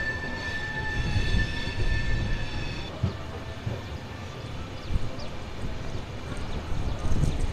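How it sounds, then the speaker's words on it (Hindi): A train pulls out of the platform at Kanyakumari station, a steady low rumble of wheels and carriages with faint squeal tones early on and occasional clanks, fairly close, with a voice murmuring at times. "बाय बाय कन्याकुमारी, हमारी ट्रेन प्लेटफॉर्म छोड़ चुकी है।"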